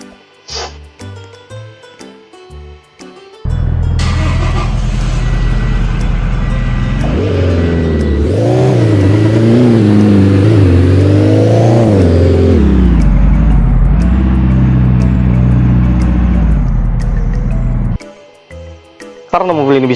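A car engine revving in the Roblox driving game CDID, loud and near, climbing and falling in pitch through several long surges; someone talks briefly before and after.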